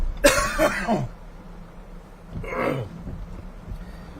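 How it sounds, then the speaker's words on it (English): A person coughs in a harsh, throaty burst of several hacks, then after a short pause gives one more shorter cough, close to the microphone. "the cough is starting to kick up"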